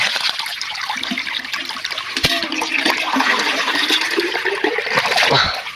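Water gushes steadily as a container is filled from a farm well, a continuous close splashing, trickling flow with no talking.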